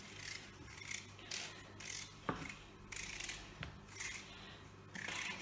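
A potato being peeled in a home kitchen for leek and potato soup, with repeated soft scraping strokes and a couple of sharper clicks, close and quiet, without talk.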